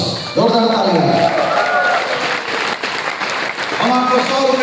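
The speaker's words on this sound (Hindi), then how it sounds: "जोरदार तालियां।" A crowd at a venue closing event applauds loudly, a sustained wash of clapping mid-stretch, with a voice talking over it at the start and end.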